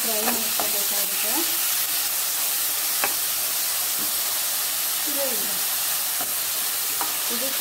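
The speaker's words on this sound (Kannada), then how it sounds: "ಹೆಂಚಿಗೆ ಚೆನ್ನಾಗಿ ಫ್ರೈ ಮಾಡ್ಕೋಬೇಕಾಗುತ್ತೆ." Tomato and green chillies fry in a pan with a steady, dense sizzle and hiss throughout, with occasional stirring scrapes and clinks close by.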